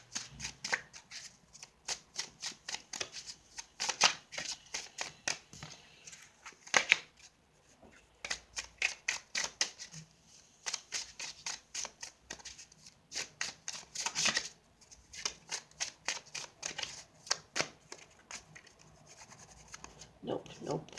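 Tarot cards being shuffled by hand during a reading, repeated crisp riffling bursts in quick rhythmic runs for about twenty seconds, close and fairly quiet, with brief pauses between rounds.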